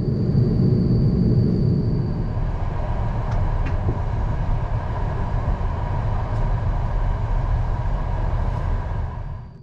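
A PKP Intercity passenger train travels between Gdynia and Gdansk, giving a steady, loud rumble of wheels and carriage noise throughout, with a faint high whine early on and a few light clicks.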